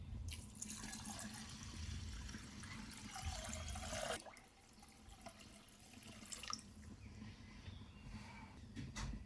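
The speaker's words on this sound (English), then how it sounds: "Add 2 mugs of rice to a bowl, wash it thoroughly and add 4 cups of water" Rice being washed in a bowl with water, heard as a steady soft splashing and running-water wash that breaks off partway, then resumes more quietly with scattered drips and swishes.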